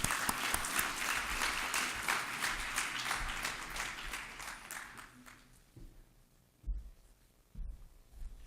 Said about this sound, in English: So if we can give a warm of applause for Dr. Loeza.